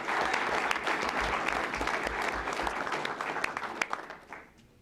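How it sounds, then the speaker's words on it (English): Audience applause at a school board meeting after a check presentation for a golf tournament fundraiser, a steady burst of many hands clapping that fades out toward the end, with no talk over it. "So give her a round of applause."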